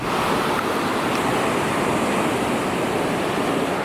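Sea waves washing onto a beach in Thailand, a steady, full roar of surf with no breaks and no voices.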